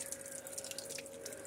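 A pot is soaked and washed in water, giving a faint, steady trickle with light dripping and splashing for a moment.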